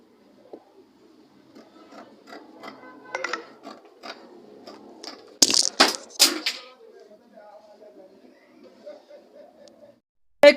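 Scissors snipping through two layered fabric sleeves, a series of quiet crisp cuts with a few louder sharp snaps near the middle, under light speech.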